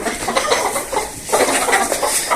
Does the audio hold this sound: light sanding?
no